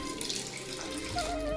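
Water runs steadily from a tap into a dish of soapy water while washing vessels in a village kitchen, a constant close splashing flow throughout.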